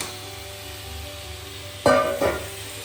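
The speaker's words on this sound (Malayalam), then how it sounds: "ലാസ്റ്റ് നമ്മൾ മാരിനേറ്റ് ചെയ്തിട്ട് ചിക്കനാണ് ചേർക്കുന്നത്" Marinated chicken hits a hot pan for chicken biryani, a sudden loud sizzle followed by a second burst, rising over a quiet background.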